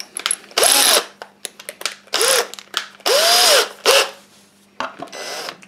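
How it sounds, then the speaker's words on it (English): A power drill with a masonry bit whines in several short bursts, pausing between each, grinding loudly against a hard ceramic tile surface close to the microphone. "Drilling in tiles."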